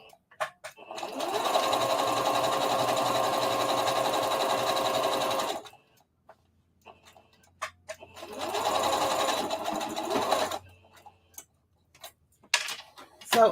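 A sewing machine runs steadily while stitching a circle dress, adding an extra layer of stitches, in two long continuous bursts separated by a short quiet pause with small handling clicks.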